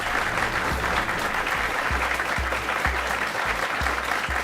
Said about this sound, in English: Terrific quizzing, deserves a big applause.